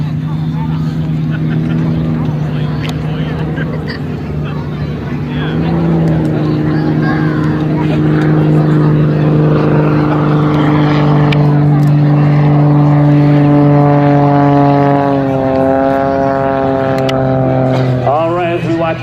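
A race plane touches down and taxis toward the hot pit, its engine droning loudly with steady tones that shift in pitch as it slows, with an announcer talking over it.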